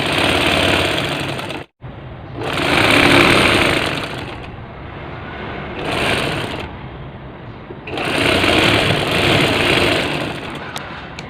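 A sewing machine stitches a ladies' shirt in loud, rapid mechanical bursts, running a few seconds at a time with brief pauses and slower stretches between runs, close up and with no talking.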